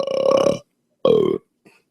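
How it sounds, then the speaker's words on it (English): Two close, loud burps drawn inward into a microphone, the first longer and the second shorter, followed by a faint trailing sound. "What about when I burp inward?"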